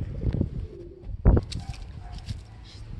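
A racing pigeon hen at a derby loft gives soft, low cooing, a few short rounded calls close by, mixed with brief knocks and light background noise.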